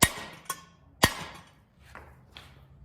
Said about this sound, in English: get the sledge hammer and tap it a couple times